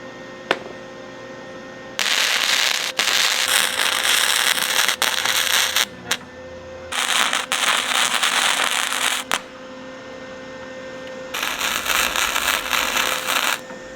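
An old arc welder joins metal parts for a homemade grazing tool used with an electric sheep fence, giving three long, loud, crackling buzzes separated by short pauses, with no talking.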